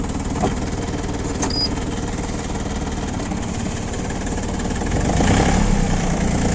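Diesel engine of an ISEKI TA275 compact tractor running at steady idle, loud and close, with a rough rhythmic chug from the exhaust that swells slightly near the end.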